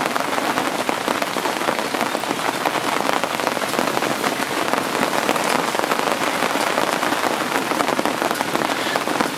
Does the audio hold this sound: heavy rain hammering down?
yes